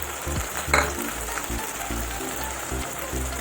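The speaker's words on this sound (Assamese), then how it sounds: "ইয়াতে দিম মই কাটি থোৱা বিলাহীখিনি গোটেইখিনি দি দিলোঁ" Chopped tomatoes added to a pan of lightly browned fried onions over lowered gas heat sizzle and crackle steadily, with a brief louder burst early on and low stirring knocks throughout.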